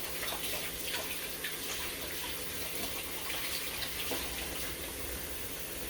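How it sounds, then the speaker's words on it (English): Steady running water from a tap as hands are washed at a sink, a continuous even wash of flow with faint splashing, no voices over it. "I'm going to wash my hands again"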